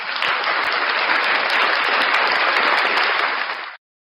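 Loud, dense applause from many hands, steady and continuous for nearly four seconds before cutting off abruptly.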